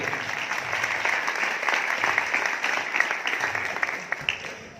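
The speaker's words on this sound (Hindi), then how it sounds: "और तारक साहब वास्ते तालियां दो" An audience at a church meeting breaks into sustained applause, a dense and fairly close round of clapping that carries on throughout with occasional louder claps.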